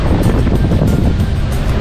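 Stormy surf and strong wind at a beach resort in Cabangan, Zambales, with a steady loud roar of breaking waves and wind buffeting the microphone.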